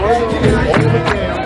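A dense street crowd in Baltimore fills the air with a steady, close murmur of overlapping voices and shuffling movement, with people talking throughout.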